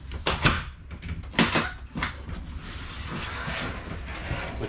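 Sliding barn-door-style closet doors in a 2023 Forest River Salem 33ts RV knock and clatter twice near the start, then roll along their track with a soft, continuous rumble, close by with no talking.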